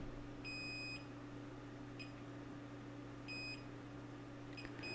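A multimeter's continuity tester, probing connections on a solid-state drive circuit board, gives three short, clear electronic beeps of about half a second to a second each, spaced apart over a low steady electrical hum.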